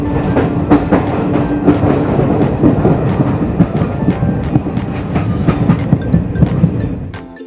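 Garib Rath express, India's low-cost AC train, rumbling and clattering at steady, close range near Garhwa Road Junction, with rhythmic wheel clicks over the rails throughout and no voices.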